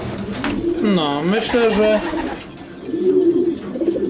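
Pigeons coo in low, rolling, warbling calls, first a run of them and then another burst after a short pause, with a brief spoken phrase mixed in.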